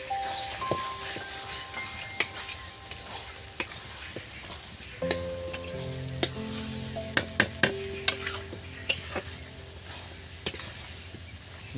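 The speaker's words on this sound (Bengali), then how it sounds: "এই মশলাতে একদম নেড়ে চেড়ে কষে নেবো বন্ধুরা" Chicken pieces fry in a spice masala for chicken curry as a spoon stirs them: a steady sizzle with sharp clinks and scrapes of metal on the pan, plus a faint tonal background underneath.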